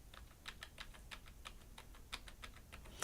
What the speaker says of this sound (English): I'm gonna go ahead and show you what it sounds like by pressing one key.